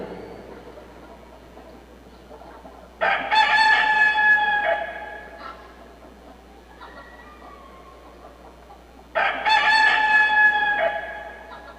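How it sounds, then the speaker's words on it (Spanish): A rooster crows twice, each call long and loud, separated by several seconds of quiet background hum. "después de la tercera negación, un gallo cantó"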